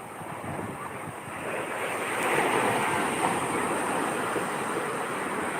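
Ocean surf washes steadily onto Sumedang beach in Pesisir Selatan, a continuous broad roar of breaking waves mixed with gusty wind buffeting the microphone, swelling slightly louder midway with no voices.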